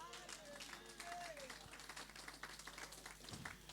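A church congregation applauding the Lord during an evangelistic service, a dense wash of clapping and crowd noise rising and falling steadily throughout, with voices mixed into the din.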